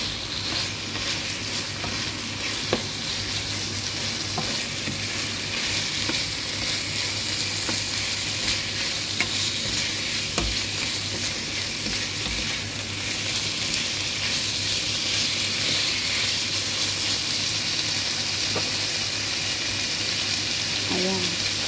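Pork with cashew nuts and long chili stir-frying in a hot pan, a steady dense sizzle running unbroken throughout with occasional faint clicks of stirring, close and fairly loud.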